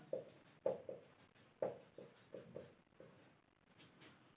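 A pen scratches across paper while a maths solution is worked out, short irregular strokes and taps in a quiet room, faint and close, with no talk.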